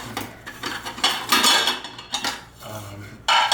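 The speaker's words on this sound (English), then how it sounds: "This is a standard nesting pot set." Metal pots from a standard nesting cookware set, three sizes, clanking and rattling against each other as they are handled in a Subaru Outback camper, with several close, uneven bursts of clatter.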